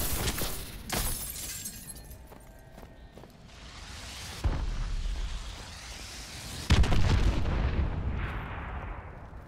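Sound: enemy missile strike explosions in video game Call of Duty Advanced Warfare

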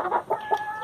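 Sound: chickens clucking

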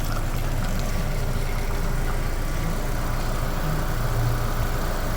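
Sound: car engine running during cooling system flush

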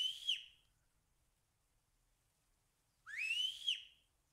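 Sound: whistling in the VR game Virtual Hunter

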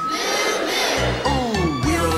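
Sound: children imitating a cow mooing

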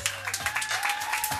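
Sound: audience clapping for a speaker

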